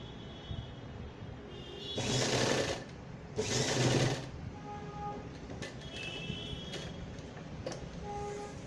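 A sewing machine stitches party-wear gown fabric in two loud, steady bursts of about a second each, with quieter handling and faint clicks between them and no talking.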